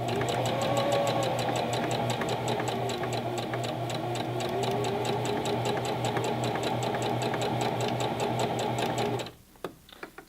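A Singer Classic Heavy Duty sewing machine back stitching, a steady fast mechanical hum with rapid even needle ticks, close and constant, stopping abruptly near the end with a few light clicks.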